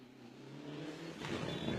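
A heavy Mitsubishi Evo rally car on a gravel stage in Barbados, braking hard and then accelerating, its engine note rising into a rough, loud roar as it passes fairly close.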